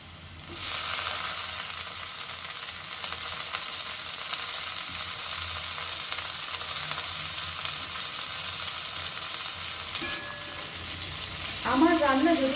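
Chopped tomatoes frying in a pan for dal with spinach, a steady, dense sizzle close up that holds evenly, with a brief stirring scrape and clatter near the end.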